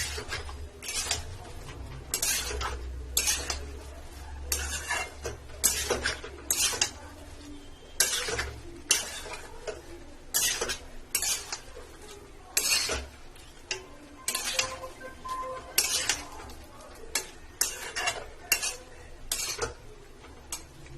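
A spoon scrapes and stirs spiced potato and parwal sabzi in a pan, with steady rhythmic clinks and scrapes against the metal. The sound is close and continuous over a low background hum, with no talking.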